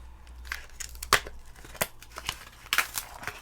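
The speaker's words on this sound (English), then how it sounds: "Good old craft knife, eh?" A craft knife slices through plastic packaging in a series of sharp, crackling cuts and crinkles, close by and irregular.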